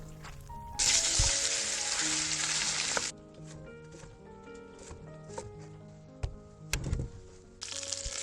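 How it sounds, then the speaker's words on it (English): Chopped meat trimmings hit hot olive oil on high heat with a loud, dense sizzle that stops abruptly. Quieter clinks and tonal background sounds follow before the sizzle surges back at the end. "The trimmings are chopped and fried in olive oil, a high heat"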